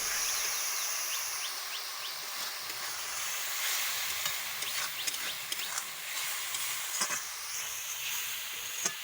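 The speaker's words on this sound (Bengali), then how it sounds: "এবার একটু জিরের গুঁড়ো দিয়ে দিলাম, একটু ধনের গুঁড়ো দিয়ে দিলাম, দিয়ে ভালো করে ভেজে নিতে হবে।" Cumin and coriander powder masala frying and being stirred in a pan, a steady close hiss of sizzling with soft scraping strokes running throughout.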